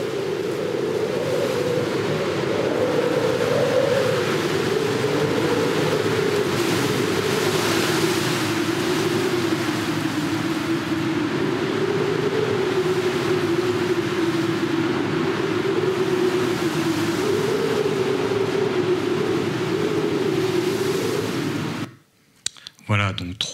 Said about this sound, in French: du vent, un phénomène qui est extrêmement difficile à enregistrer par Marc et Olivier Namblard